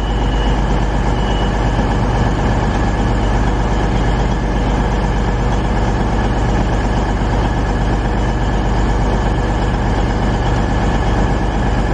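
A stopping passenger train from Nottingham rumbles steadily past along a station platform at close range, a continuous loud roar of wheels and engine with no break.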